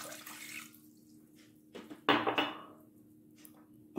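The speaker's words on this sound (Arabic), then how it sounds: "غادي ندير فيها جوج كيسان ديال الماء" Two glasses of water are poured into a cooking pot for zalabia batter, giving a splashing pour with a short, bright burst in the middle, a quieter trickle on either side, and a faint knock at the end.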